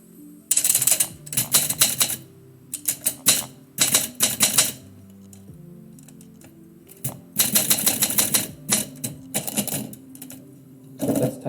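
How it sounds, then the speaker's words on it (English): Manual typewriter typing a poem, quick bursts of loud close key strikes in uneven clusters, separated by pauses and occasional carriage clunks, with no talking. "Let's type a poem about shopping."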